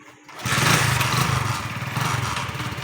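A motorcycle engine starts up as the bike sets off, then runs loud and steady with a buzzing, throbbing drone that keeps going without a pause. No one talks.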